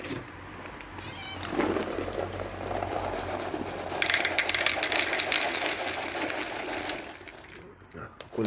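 A hungry cat meows for breakfast in a home at the start of the day, calling from the background in short repeated cries while a person talks nearby over a mechanical hum.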